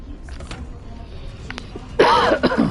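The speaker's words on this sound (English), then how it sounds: "be happy when I get rid of this cough" A man coughs harshly once, close and loud, after a stretch of quiet room noise with faint small clicks, while playing a game.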